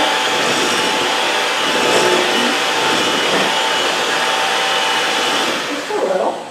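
Electric mixer whirring through coffee cake batter in a bowl, a loud, steady motor drone running continuously close by, easing slightly near the end, with no talking.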